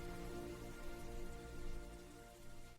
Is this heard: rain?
yes